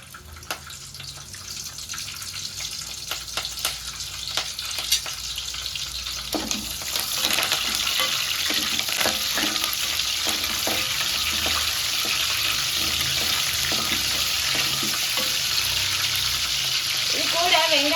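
Cinnamon, cloves, green chilies and curry leaves frying in hot oil, a crackling sizzle that builds louder and denser as the spices go in, with a few clinks and stirring noises.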